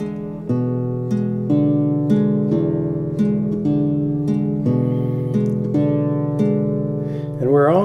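A guitar plays a double-thumbing blues pattern, steady alternating bass notes from the thumb under picked treble strings, loud and close with no talk.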